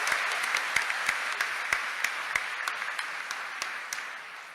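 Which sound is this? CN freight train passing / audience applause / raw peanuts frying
audience applause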